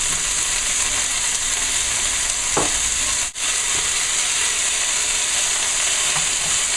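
Lobster tails fry in a hot pan at home, giving a steady, close, loud sizzle throughout, with a couple of brief clicks as they are turned over.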